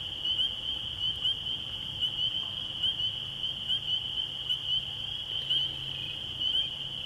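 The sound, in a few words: spring peeper frogs calling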